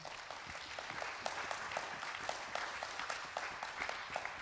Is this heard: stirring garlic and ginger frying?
no